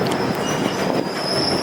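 A Mahananda Express train pulls slowly out of Siliguri Junction, giving a steady close rumble of rolling railcars with faint wheel squeal and high metallic ringing, no voices.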